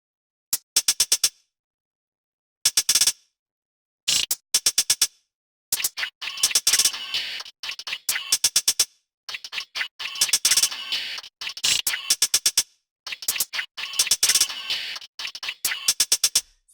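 Chopped percussion loop from an Ableton beat, with bursts of crisp ticking hi-hat rolls cut by gaps. Short stuttering hits at first, then denser repeated bursts, bright and upfront.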